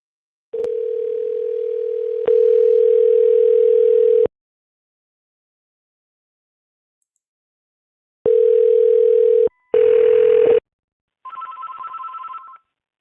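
A Google Voice call placing a telephone ringing tone: loud steady tone bursts separated by a silent gap, then a brief higher two-tone signal, clear and close with no talking.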